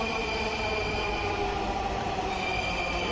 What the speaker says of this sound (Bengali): এখন আমি যে ট্রেনটাতে উঠবো সেটা চলে আসছে